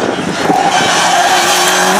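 A toy race car makes a loud, brief racing-engine whine with a rising tire-squeal tone across two seconds.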